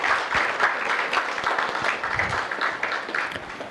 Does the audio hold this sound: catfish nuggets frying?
no